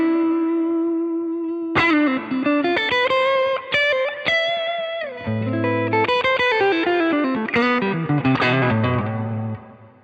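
Distorted electric guitar through plate reverb plays a quick run of notes with clear attacks, each ringing into a smooth, roomy reverb tail.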